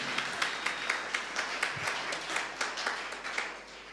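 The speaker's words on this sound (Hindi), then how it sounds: "ताली बजनी चाहिए थी खुदा उनके नाम से" A church congregation claps together during a pastor's sermon, a continuous patter of many hands, moderately distant and even, without a clear break.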